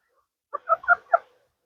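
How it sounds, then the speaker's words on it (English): A short run of four soft clucks from a nearby backyard hen, quick and evenly spaced, in otherwise quiet surroundings. "Variety pack of chickens."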